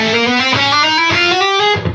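A loud distorted electric guitar plays a quick run of single notes, thick and saturated, ringing out alone.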